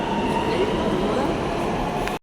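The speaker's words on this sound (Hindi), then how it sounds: "मेट्रो आ गई थी, बस मैं 1 सेकंड लेट था बस, और मेट्रो चल पड़ी।" A Dubai metro train pulls away from the station with a steady, loud rumble and rail noise, and the sound cuts off abruptly at the end.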